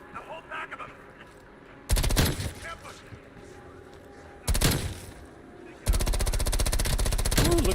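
Automatic gunfire with heavy recoil in Call of Duty Black Ops Cold War Zombies Outbreak: two short loud bursts, then a sustained rapid-fire stream to the end, over a quieter game background.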